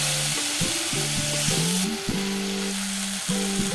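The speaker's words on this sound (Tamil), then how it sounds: "பாத்தீங்கன்னா ஒரு 5 நிமிஷமா நல்லா நான் தொடர்ந்து வதக்கிட்டு இருக்கேன்." Sliced tomatoes sauté and sizzle loudly in a pan. A steady frying hiss runs close throughout, and short tonal scraping strokes from stirring repeat in a loose rhythm with no talking.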